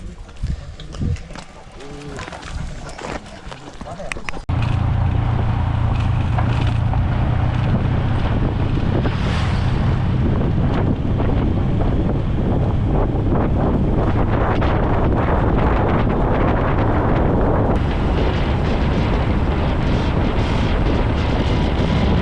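Strong wind buffets the microphone in a steady, loud rush after a brief quieter start, with faint outdoor sounds underneath, on a clear December day along a mountain road on the Ha Giang Loop, Vietnam.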